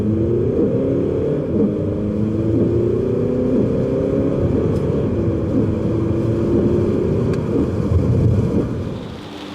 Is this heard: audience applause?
no